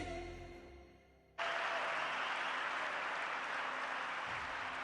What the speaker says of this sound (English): And they politely clap.